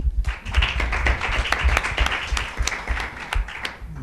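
Audience applause at the IZAR Córdoba presentation event: brisk, dense clapping from a modest crowd, sustained for several seconds with a few louder individual claps standing out.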